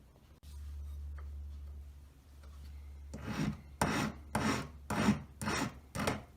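A hand file rasps across a step on a metal tube in about six short, rhythmic strokes, close and crisp, following a low steady hum.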